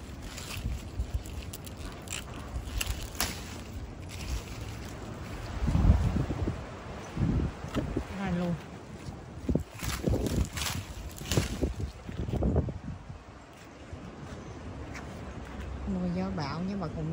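Gusty storm wind with rain buffets the microphone in rough bursts in a fruit garden, with people talking nearby and occasional footsteps and rustling.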